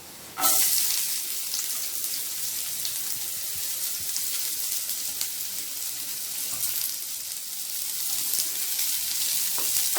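Onions sautéing in a pan for banana puri and potato curry, a steady close sizzle and crackle of frying that runs unbroken, with occasional faint scrapes and no talking.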